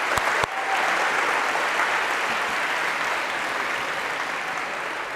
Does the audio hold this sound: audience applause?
yes